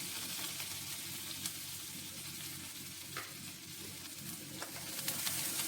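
Ginger garlic paste and onion fry in hot oil with a steady, soft sizzle and a few faint stirring clicks. The sound continues without a pause and no one speaks.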